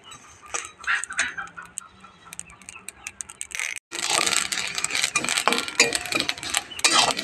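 Black and white mustard seeds sputter and pop in hot oil on a gas stove, with scattered sharp crackles growing into dense, loud crackling frying.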